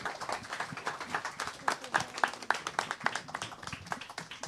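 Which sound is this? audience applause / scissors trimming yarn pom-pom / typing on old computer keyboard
audience applause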